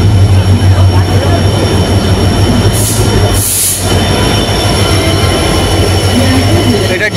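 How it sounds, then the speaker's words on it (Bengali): The Padatik Express, hauled by a diesel locomotive, pulls out of New Coochbehar station with a loud, steady rumble of wheels and carriages heard from on board, a brief squeal of wheels near the middle, and voices under the noise. "আমাদের ট্রেন এখন ছেড়ে যাচ্ছে নিউ কোচবিহার স্টেশন থেকে।"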